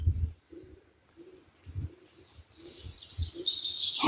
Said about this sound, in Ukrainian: Голуби воркують,